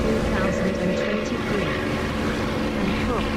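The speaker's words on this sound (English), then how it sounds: "when you get close to the runway, the engine sound gets a bit louder" A propeller aircraft engine in the DCS flight simulator drones steadily with a layered harmonic hum, loud and continuous throughout.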